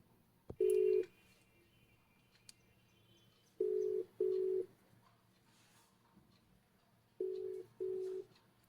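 A phone call being placed: pairs of loud, close ringback tones separated by long quiet gaps, with a faint click before the first ring and no voices.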